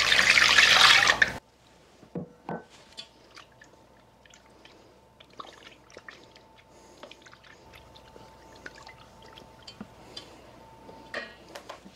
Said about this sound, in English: And we need 375 grams of water.